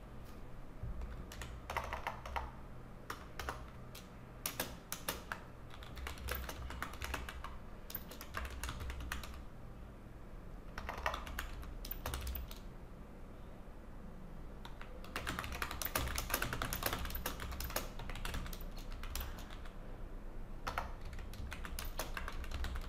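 Typing on a computer keyboard while writing a Hindi blog post, with bursts of close, rapid key clicks separated by short pauses, alone and without talk.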